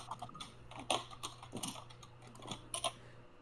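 A computer keyboard clatters with quick, irregular bursts of key clicks, fairly faint and close, over a low electrical hum, with no one talking.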